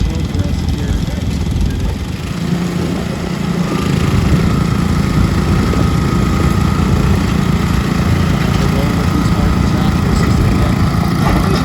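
An antique tractor engine labours loudly and steadily throughout a tractor pull at the Aldergrove Fair, its low droning roar continuous, with a crowd and an announcer's voice partly audible beneath.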